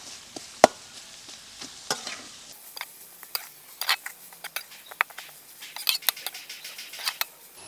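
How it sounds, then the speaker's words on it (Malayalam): Onions with green chilies being stirred in a frying pan for Kerala-style egg roast: a light sizzle with irregular scraping and clicking of a spoon against the pan, close and fairly quiet, with no talk. "നന്നായിട്ട് നമുക്ക് ഇളക്കി ഒരു കളറ് മാറുന്നവരെ ഇളക്കി"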